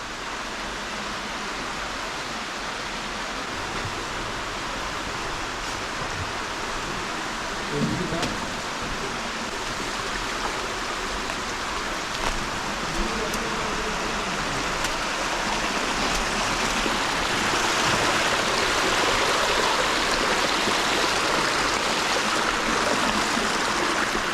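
Underground water in a Cévennes cave rushing and churning into waves, a steady broad roar that grows slightly louder, with a few faint voices now and then beneath it.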